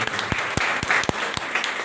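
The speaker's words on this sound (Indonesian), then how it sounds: "Kita berikan tepuk tangan yang meriah" A church congregation celebrating its sixteenth anniversary breaks into lively applause, a close, continuous patter of many hands with a few sharp louder claps standing out.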